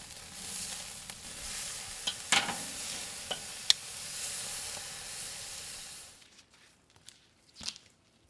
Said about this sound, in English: So I'm going to par fry these just to soften them up a little bit.